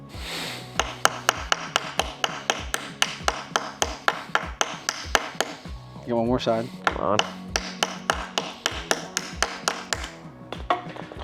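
Steady, sharp hammer blows from a 3D-printed hammer ring out in a fast regular rhythm, close and loud, with a brief scraping pause and a few spoken words partway through.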